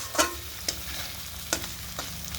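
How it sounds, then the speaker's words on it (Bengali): Spice paste frying in oil in a pan, giving a soft continuous sizzle broken by a few sharp stirring scrapes near the start, middle and end, with no talking. "একটু হালকা জল দিয়ে দিই মানে মশলাটা ভালোভাবে ভাজা হোক"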